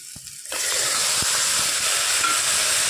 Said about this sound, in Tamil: தக்காளி போட்டு கொஞ்ச நேரம் வணக்கி விடலாம்